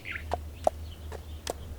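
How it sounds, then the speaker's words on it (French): Birds call under freshly leafed trees in spring, a few short separate chirps over a low steady hum, faint and somewhat distant, no speech. "sous les chants d'oiseaux"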